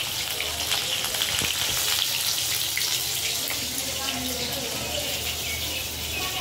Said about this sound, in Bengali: এই যে বন্ধুরা, ডিমগুলো ভেজে নিচ্ছি।